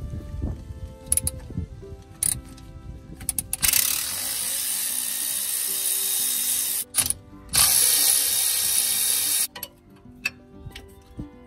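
A hand ratchet works the engine head bolts loose on a junkyard International Scout, with sharp clicking bursts and long continuous ratcheting runs, close up and loud, broken by short pauses.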